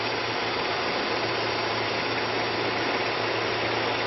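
A Qwik Draw coolant flush and exchange machine vacuums old coolant out of a vehicle's radiator system, a steady, even hiss with a low mechanical hum underneath, constant and moderately faint.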